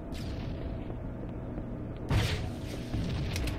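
A rocket launcher explosion in Halo: Combat Evolved, a sudden loud boom bursting in about two seconds in over a steady rumbling game background, followed by a second, smaller blast near the end.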